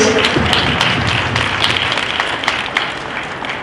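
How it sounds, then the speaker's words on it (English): An audience at a Minnesota entrepreneur kickoff event applauds for a person being honoured, with steady, dense clapping from a roomful of people that holds strong for the whole stretch and tapers slightly at the end. "Can you give a round of applause for Lois?"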